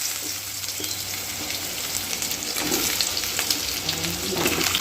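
Potato and pointed gourd fry together in oil in a pan, giving a steady close hiss of sizzling with faint scraping and a brief tap of water in the background; no one speaks.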